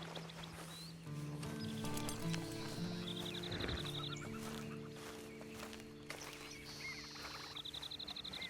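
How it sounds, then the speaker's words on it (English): Horse hooves clip-clop in Red Dead Redemption over a steady in-game backdrop of music, with a horse whinny and bird honks mixed in and a quicker run of hoof beats near the end. "And you better get on this horse."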